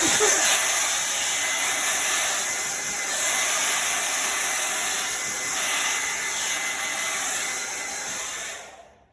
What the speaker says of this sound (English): What I do is I blow dry everything off the table